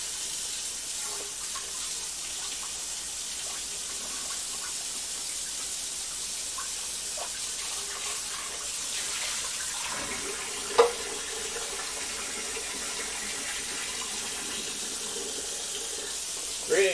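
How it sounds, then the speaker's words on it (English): Tap water runs steadily into a kitchen sink while an item is washed, a constant hiss of the stream with a knock and a brief clatter partway through and again at the end, close by. "Just give this one a quick little wash."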